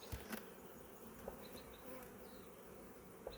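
Honey bees hum inside a Langstroth hive, a faint, steady low buzz with a few brief louder passes close by, no voices present.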